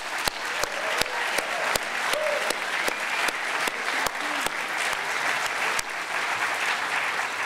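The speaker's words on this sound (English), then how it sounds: "Let's give you a round of applause." Audience applause at the 2012 State of the Rockies Conference, a steady roar of many hands clapping across a large room with sharp individual claps standing out, sustained and even throughout.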